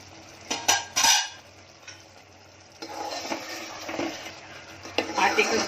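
Wheat flour paste cooks and gets stirred in a pan for a lauki kheer dessert, a soft sizzle with scraping spoon strokes and a few clinks of utensils, close and fairly quiet.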